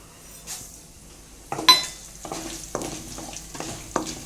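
Lentils and whole spices such as chana dal, urad dal, coriander seeds, fenugreek, cumin and mustard seeds fry in a pan for pickle-making, with repeated stirring scrapes and clinks over a soft sizzle, close and moderately loud, no talk.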